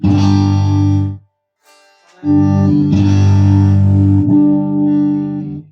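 Electric guitar through the neck and middle pickups together, with distortion and effects: a loud held chord, a short gap of near silence, then several re-struck sustained chords ringing close up.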